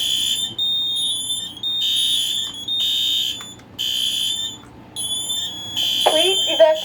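A household smoke alarm blares a piercing shrill tone in long repeated pulses, steady and loud, with a recorded voice speaking over it near the end.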